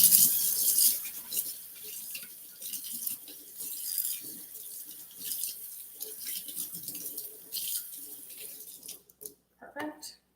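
Water runs from a kitchen sink tap while hands and a knife are washed with soap, a steady splashing stream that stops near the end, with a person talking over it.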